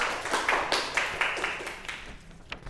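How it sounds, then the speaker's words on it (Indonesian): A classroom group of children claps for Mbak Luri during a microteaching lesson, a short burst of scattered, uneven hand claps that fades over a couple of seconds. "Beri tepuk tangan buat Mbak Luri"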